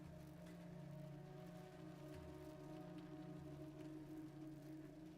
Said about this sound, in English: it just started raining outside so hard